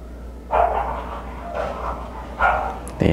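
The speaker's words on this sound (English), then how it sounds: "Sorry about the dogs." Dogs barking in the background during an acrylic landscape painting session, three separate short bursts of muffled barking about a second apart over a low steady hum.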